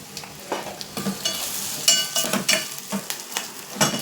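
Curry leaves dropped into onions already frying in a pan for tomato dal, giving a steady close sizzle broken by repeated stirring scrapes and spatula strokes, with no one talking.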